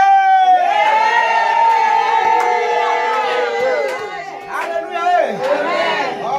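Church congregation at a Friday night prayer vigil rises and shouts together, a loud sustained mass of cheering voices and whoops filling the whole stretch with a few sharper cries near the end.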